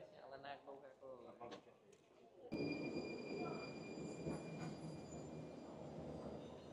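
A person talks briefly before a Prague metro train rushes into Můstek station with a loud, sustained rumble and high-pitched whine that continues to the end.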